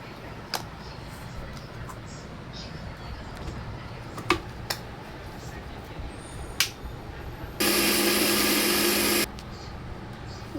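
Mixer grinder blending yogurt, onion, tomato, chilli paste, ginger paste, cumin powder and coriander powder into a paste, one loud steady whir of about two seconds preceded by scattered clicks and handling noises.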